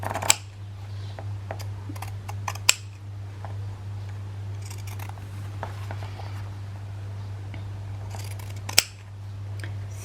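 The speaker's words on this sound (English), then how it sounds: "Then of course turn it over and cut." Scissors cut fabric for a hard journal cover with a few sharp snips spread across a quiet background hum, close and fairly faint, with no talking.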